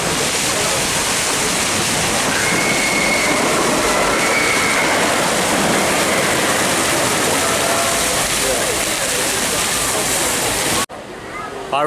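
Big Dipper roller coaster train ride at Blackpool Pleasure Beach, a loud, continuous roar of wheels rumbling and clattering on track with wind rush, ending abruptly near the end.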